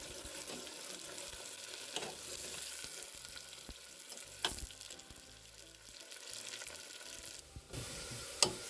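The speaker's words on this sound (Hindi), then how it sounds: "सबसे पहले हम प्याज को फ्राई करेंगे। लाइट ब्राउन फ्राई करना है हमें।" Sliced onions frying in hot oil for a mutton korma, a steady soft sizzle throughout with occasional stirring clatter and spoon knocks against the pan, no voices.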